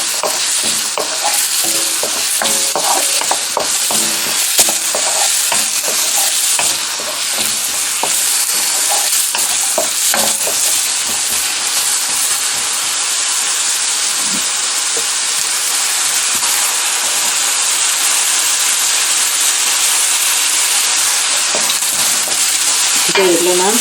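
Vegetables sauté and sizzle in a hot pan while cooking fried rice, a steady loud frying hiss with intermittent stirring scrapes throughout, no talk.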